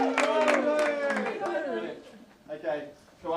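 One side of a room at a Koala Lou event gives a quick burst of cheering, with mixed voices and a few light claps. The noise dies down within a couple of seconds, leaving faint murmurs.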